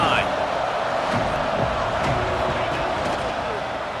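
Steady, dense home crowd roar from a college football video game rivalry matchup, a continuous wash of noise holding level throughout as the defense faces third down, with faint voice-like murmur blended into the din.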